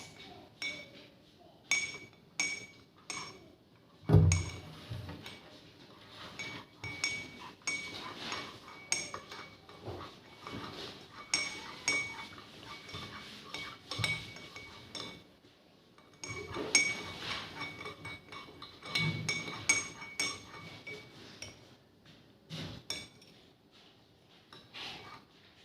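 A mixture is stirred in a glass for a solubility experiment, and a spoon keeps up quick, uneven clinks against the glass for a long stretch, some taps sharp and others soft.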